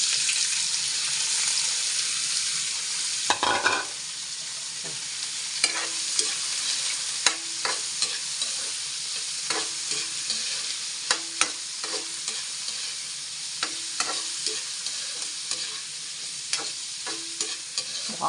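Sliced manala, a Bicol ingredient, sizzles steadily in a pan for adobo sa gata, with repeated scraping stirs and clanks of a utensil across the pan throughout, and no talk.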